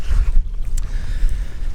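Loud, gusty wind buffets the microphone outdoors near old mine shafts with a deep, continuous rumble that swells and eases, with no voices.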